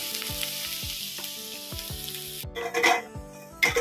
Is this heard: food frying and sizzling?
yes